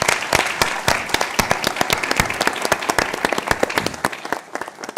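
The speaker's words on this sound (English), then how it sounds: "join me for a round of applause for this esteemed..." An audience at a conference panel launching a policy report applauds. Dense, steady clapping fills the room for about five seconds, then thins and fades near the end.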